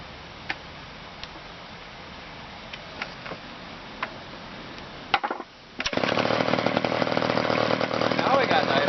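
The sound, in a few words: small engine idling after adjusting the idle screw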